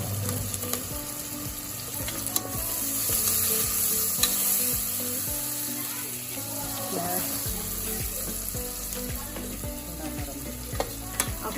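Onions softening in a pan with turmeric and mint, a steady sizzle and frying hiss with scattered stirring clicks and taps throughout, fairly close, with no talk.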